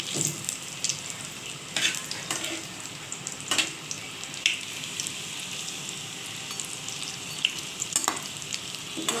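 Chicken pakoras sizzle and fry steadily in hot oil, a close, continuous crackle with occasional louder pops and stirring sounds, and no one talking.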